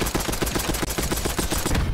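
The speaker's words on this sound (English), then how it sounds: "I'm just gonna start randomly shooting tires" Rapid bursts of gunfire in Black Ops 6, a dense string of shots fired at tires, loud and continuous with no voices.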